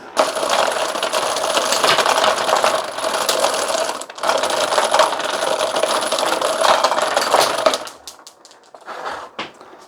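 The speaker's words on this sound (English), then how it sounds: "Now obviously I don't recommend firing ball bearings out with this thing because you will break it very soon." Ball bearings flung from a hand-held grass seed spreader as it spins, giving a dense, steady metallic rattle and clatter for about eight seconds, then dropping to sparse scattered clicks and pings as the bearings land.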